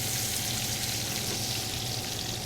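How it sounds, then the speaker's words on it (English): Pork belly, cap side down, searing in a pan, giving a dense, steady hiss that holds even and unbroken with no talking. "We're going to sear this for about 3 minutes on each side."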